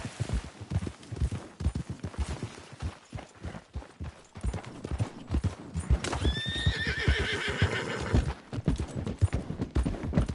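Hooves clip-clop in an irregular rhythm, then a horse gives a loud, shrill whinny partway through as the hoofbeats continue, in the video game Red Dead Redemption 2.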